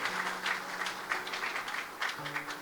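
Wedding guests clap at a Christian wedding service following the cake cutting, a brief stretch of fairly even applause at moderate level with faint music tones beneath.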